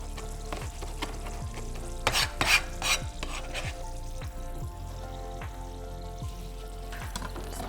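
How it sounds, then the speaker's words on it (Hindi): Sauce whisked in a pan, a rhythmic series of scraping strokes against the metal over a steady low sizzle, close and alone without talking. "इसको विस्क करेंगे।"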